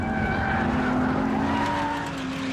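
A loud, tuned sports car engine note falls steadily in pitch as the car brakes hard for a hairpin, with some tire noise and rumble beneath, close and continuous.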